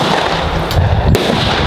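Shots from a new AR-15 rifle, two sharp broadband cracks about half a second apart over steady outdoor background noise.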